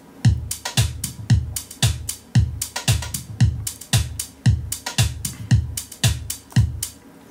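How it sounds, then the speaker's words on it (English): A deep, dark drum loop with a heavy low kick pulsing about every half second, crisp hits and hi-hats layered between, steady and repetitive. "is a deep and dark beat number 1"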